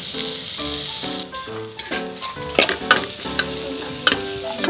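Spices frying in a pan with browned onion and ginger-garlic paste, a steady close sizzle broken by repeated scraping stirs of a spoon against the pan, with no talking.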